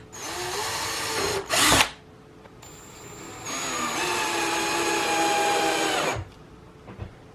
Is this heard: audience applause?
no